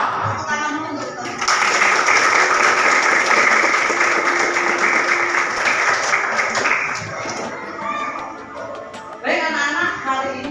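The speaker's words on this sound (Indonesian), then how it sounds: "Tepuk tangan dulu untuk kita." Vocational high school students applaud together in a classroom, a dense, loud burst of clapping lasting several seconds between stretches of a teacher's speech.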